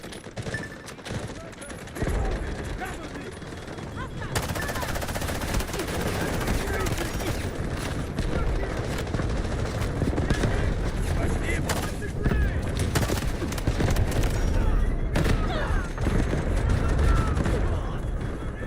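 Gunfire in the video game Delta Force: dense, sustained bursts of automatic weapons and booming shots rumble continuously and loudly. A player talks over the battle at times.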